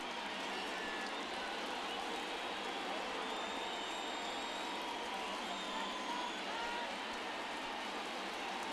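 Stadium crowd noise from the baseball video game MLB The Show 24 during a tight ninth inning, a dense, steady roar that holds evenly throughout.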